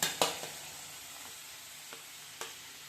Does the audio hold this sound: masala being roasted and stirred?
yes